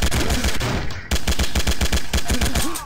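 Sharp, loud gunshots crack in quick succession from a firearm in the tactical shooter Sierra 7, about a dozen close reports with a short gap early on, each ringing briefly.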